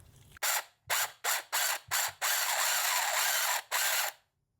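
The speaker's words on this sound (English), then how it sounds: "I thought it would be a good idea to buy this handheld sewing machine before I bought my regular sewing machine" A cheap handheld sewing machine runs in several short, loud, rapid mechanical bursts with brief pauses, then one longer continuous run before stopping abruptly.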